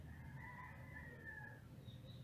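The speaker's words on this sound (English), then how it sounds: "as you listen to the always noisy roosters in Mexico" Roosters crowing somewhere in Mexico, a faint distant crow drawn out over a couple of seconds against a quiet low background hum.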